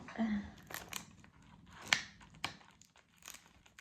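Crinkling, tearing plastic packaging of a Shiglam eyebrow gel being struggled open by hand, with short rustles and a sharp snap near the middle, faint talk in the background.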